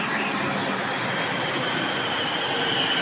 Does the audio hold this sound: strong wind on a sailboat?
no